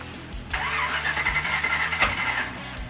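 A car engine with a freshly fuelled carburetor and incorrect ignition timing cranks and coughs, popping back through the carb in a loud, rough attempt to start, with sharp bursts near the start and middle.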